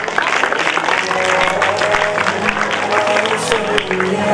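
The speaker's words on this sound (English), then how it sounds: "please have a huge round of applause for Fahad Somro" At a boys' school co-curricular competition prize ceremony, the audience applauds the first-place winner, a loud, dense stretch of clapping mixed with crowd noise and some steady background sound.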